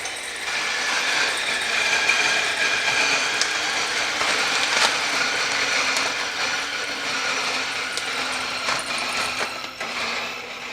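A Weber EG-1 coffee grinder grinds beans with a steady, close mechanical whir and gritty rattle that holds throughout, fading slightly at the end.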